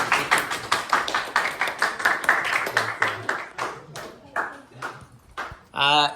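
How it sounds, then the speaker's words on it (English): Rapid, fairly sharp hand claps repeating steadily for several seconds, then thinning out into a few scattered claps, with voices talking over them in a classroom setting. "let's go to golf clap"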